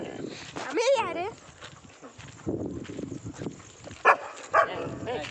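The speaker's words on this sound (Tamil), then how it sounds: "ரகுவனோட நாய் பப்பி" A dog whines and gives a couple of short, sharp barks near the end, close by, with people talking around it throughout.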